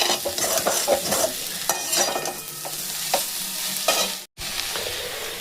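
Samosa filling of cauliflower and carrot with sugar and fried nuts, stirred in a hot pan: a steady sizzle with repeated scraping strokes of a spoon, close and fairly loud, with one brief break near the end.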